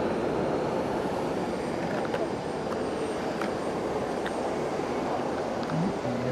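A Peach airliner lands at Fukuoka airport, heard as a distant, steady engine rumble with faint, brief higher tones over the top.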